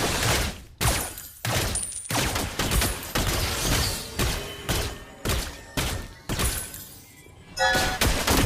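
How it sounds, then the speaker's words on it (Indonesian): Rapid bursts of Mobile Legends gunfire crackle through a dense, busy mix, firing in repeated volleys with brief gaps between them. "tembakan peluru emas."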